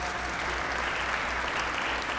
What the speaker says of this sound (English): I noticed some folks clap,